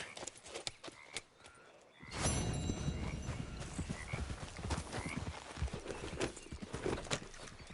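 Horse galloping in the video game Red Dead Redemption 2, rapid rhythmic hoofbeats with thuds and clatter starting abruptly after a quieter lead-in, close and steady, mixed with jingling tack and outdoor ambience.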